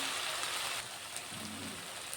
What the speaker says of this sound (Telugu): పప్పులోనైతే వాటర్ వేసుకుంటున్నాం